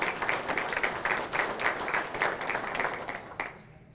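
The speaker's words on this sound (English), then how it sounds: "give them a hand of applause" An audience at a township State of the Township address applauds steadily for several seconds, a dense roomful of clapping that tails off abruptly near the end into quiet.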